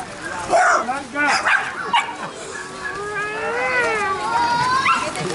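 A dog barks and yips in short, uneven bursts with whimpering tones, fairly close, under lively conversation from several people.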